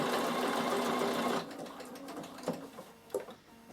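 A Bernina sewing machine quilts a fabric storage box: a fast, steady motor whir with rapid needle stitching for over a second, then stops, leaving quieter handling clicks and taps.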